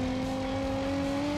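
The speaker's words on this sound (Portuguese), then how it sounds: "Esse daqui, pessoal, ó, olha o ronco. Ó o pipoco." Nissan GT-R race car in BeamNG Drive holding a loud, steady engine roar, a sustained droning note that rises slightly over a brief stretch, close and alone.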